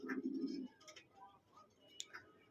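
Pigeons in a loft give a short, close coo at the start, followed by faint scattered chirps and small ticks in a quiet space.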